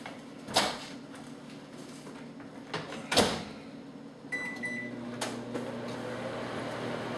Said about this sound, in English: You're gonna put this in the microwave for a minute or so.